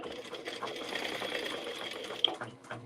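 A sewing machine runs steadily at a fast hum, fairly quiet and close, with a small click near the end.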